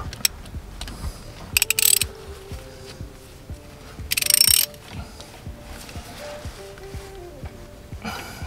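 A ratchet clicks in quick runs while loosening a nut during a car CV boot change, with rapid ticking strokes and a couple of louder metallic bursts, close up and fairly quiet.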